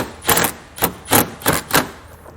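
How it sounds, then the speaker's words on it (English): Five sharp buzzing bursts of a power driver shooting self-tapping screws while installing a Roadmaster Universal Hy-Power diode wiring kit on a 2017 Chevrolet, evenly spaced, close and loud with no talk. "we can go ahead and shoot some self-tapping screws"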